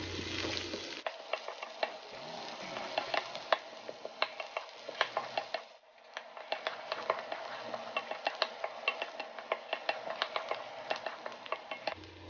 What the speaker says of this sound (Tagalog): Gisahin muna natin ang sibuyas hanggang ito ay medyo magkulay light brown na.